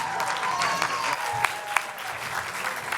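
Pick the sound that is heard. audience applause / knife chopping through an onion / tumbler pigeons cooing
audience applause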